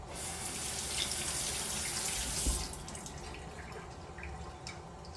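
Tap water pours steadily into a pot for steel cut oatmeal, a close, bright gush that cuts off midway, leaving faint drips and small splashes in a quiet kitchen.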